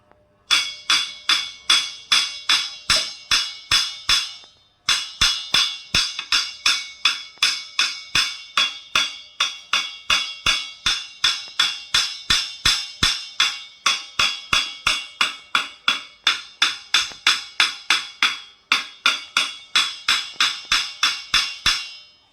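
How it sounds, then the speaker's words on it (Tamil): Rapid, steady wooden tapping on the wooden shell of a thavil drum, crisp and close, in continuous rhythmic runs with a brief pause partway through; no voices. "இப்போ தம்பி ஆகாஷனுடைய கட்டையை இப்போ தட்டி காமிச்சு சவுண்டு எப்படின்னு பார்க்க போகிறோம்."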